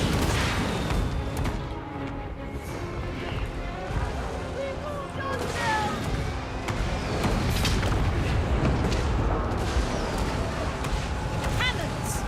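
Total War: Three Kingdoms battle gameplay with artillery cannons firing, giving repeated dull booms and crashing impacts amid continuous battlefield din, heard under someone commenting throughout.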